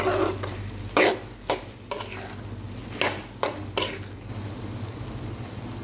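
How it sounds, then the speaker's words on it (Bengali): A sweet pumpkin curry being stirred in a pan makes a few sharp, scraping spoon strokes in an irregular rhythm, set against a faint cooking sizzle and a low background hum. "আর একটু ভালো করে নাড়াচাড়া করে দেবো যাতে উপরের গুলো নিচে চলে যায় সিদ্ধ হয় ভালো করে"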